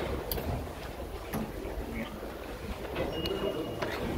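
Metro train ride in a crowded carriage: a steady low rumble of the moving train, with faint murmur from passengers in the background.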